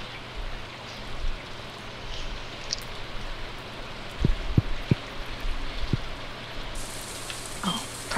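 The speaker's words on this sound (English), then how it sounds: "Yay, it rains." Steady rain falls in Stardew Valley, a soft even hiss of drops on the ground throughout, with a few small pops and plinks rising above the wash.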